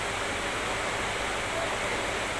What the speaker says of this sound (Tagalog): Lakas ng ano, lakas ng tubig oh. Kunting ulan lang, ganyan na agad ang tubig dito oh.